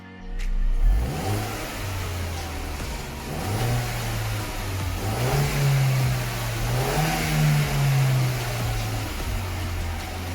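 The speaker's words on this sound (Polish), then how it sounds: "Posłuchajcie sobie teraz jak auto chodzi przed zmianą końcóweczek" Close by, an Audi A4 B6 with the 1.8T engine runs on its original exhaust tips, idling and then revving a few times in smooth rising and falling swells, with no one speaking.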